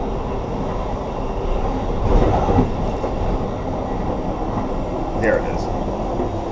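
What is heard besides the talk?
Amtrak passenger train riding on rails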